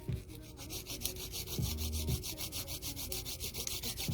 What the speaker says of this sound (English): We're going in with the touch-up file, making sure the sidewalls are nice and straight, razor sharp.